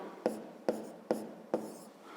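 Numbers written by hand with a pen on paper, four quick evenly spaced strokes, close and quiet, with no voices.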